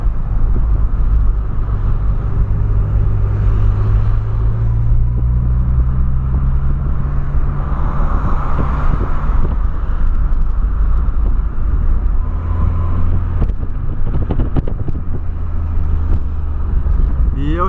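A Volkswagen Polo Sedan driving on the road, with a loud, steady engine drone and low tyre rumble from inside the cabin, the pitch rising slightly as it accelerates, and some brief clicks near the end.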